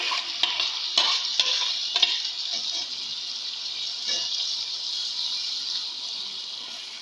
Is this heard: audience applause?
no